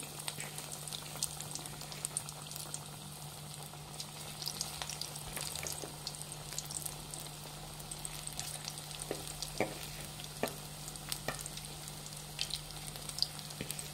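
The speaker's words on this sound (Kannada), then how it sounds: "ನೋಡಿ ಎಣ್ಣೆ ಕಾಯ್ದಿದೆ. ಫ್ರೆಂಡ್ಸ್ ಚಿಕ್ಕ ಚಿಕ್ಕದಾಗಿ ಉಂಡೆ ಮಾಡಿಕೊಂಡು ಹಾಕಿ" Small chickpea flour dough balls frying in hot oil for an Ugadi festival dish, giving a steady low bubbling sizzle with scattered pops and crackles throughout, close and alone with no talk.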